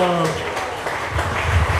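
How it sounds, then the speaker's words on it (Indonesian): A church congregation claps hands above their heads during a sermon, a dense burst of clapping that rises toward the end, with voices calling out over it at the start. "Kasih tepuk tangan di atas kepala kita kepada Tuhan"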